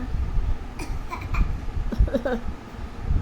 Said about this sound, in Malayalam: ഇനി ചുമക്കുന്നത് എങ്ങനെയാ?